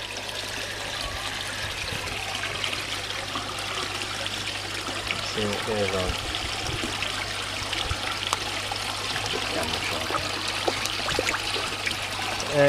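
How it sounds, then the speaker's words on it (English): Water from a pond sump pump running steadily into a garden pond, a soft, continuous trickling flow heard close by with a brief spoken remark over it. "quite happy with the flow of water that's running out of the pump there"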